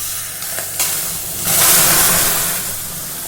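Homemade masala tea poured into a very hot clay cup, a rising hiss and sizzle that swells midway and then settles into a softer steamy fizz, close and loud with no talking.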